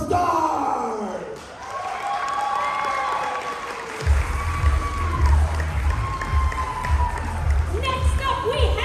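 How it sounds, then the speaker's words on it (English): Convention crowd at a cosplay contest cheering and whooping, with loud bursts of shouting and clapping swelling after a few seconds and voices calling out throughout. "So please, give a round of applause to Mars Under the Stars!"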